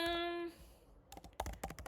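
Quick, uneven keyboard typing on a computer, a burst of close clicky keystrokes after a brief tonal beep at the start.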